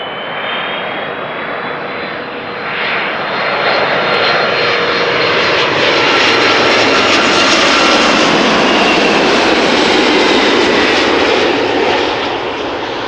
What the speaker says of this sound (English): This is Turkish Airlines Flight 1957, A330-200, arriving from Istanbul